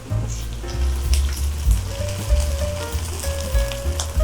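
Salmon fillets sizzle loudly in a pan of hot garlic oil, a dense, crackling fry with sharp spits and pops throughout and no talking.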